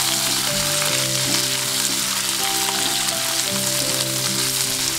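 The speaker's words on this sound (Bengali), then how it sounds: "এবার আমি বিনস কুচি দিয়ে দিলাম। সব সবজি ভালো করে ভেজে নেব।" Chopped beans and mixed vegetables fry in a pan for semolina pulao, a steady close sizzle with faint stirring, no voices.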